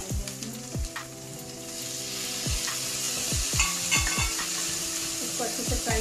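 Tomatoes with grated ginger and garlic fry in a pan, a steady sizzle under repeated scraping clinks of a spoon stirring against the metal, close and fairly loud with no voices.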